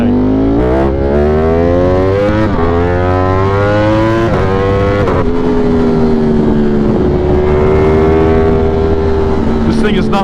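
A motorcycle held in first gear drones loudly and steadily for several seconds, its revs rising and falling as it is ridden, with a low voice faintly underneath.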